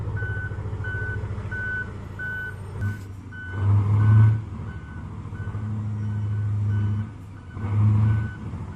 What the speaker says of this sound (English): the Towhaul Komatsu 830 uses its head to pull the Komatsu 930 truck well